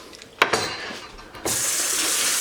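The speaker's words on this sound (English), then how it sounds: "just going to rinse the pasta out, get all the hot water out of it" Tap water running into a kitchen sink over hot cooked pasta for koshary, with a couple of clanks from a pot or colander before a steady, loud stream of water takes over.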